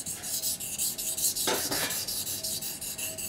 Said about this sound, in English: I change my body position depending on the sharpening angle.